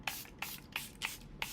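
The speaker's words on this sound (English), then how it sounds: "Airbrush Flawless Setting Spray for the long wear." Charlotte Tilbury Airbrush Flawless Setting Spray misted from its bottle during a makeup application: five short, crisp spritzes evenly spaced about a third of a second apart, close and clear.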